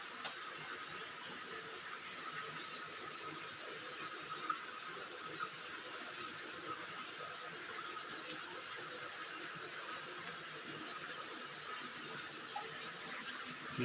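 Water flows steadily inside a cave with small pools at Dao Falls in Samboan, Cebu, giving a faint, continuous hiss and trickle with no speech.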